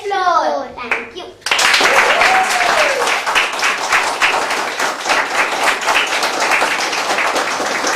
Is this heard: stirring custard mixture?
no